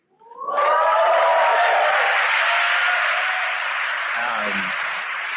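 A graduation ceremony audience for a University of Oxford MBA class bursts into loud, sustained applause that swells quickly and holds steady, with a brief voice near the end.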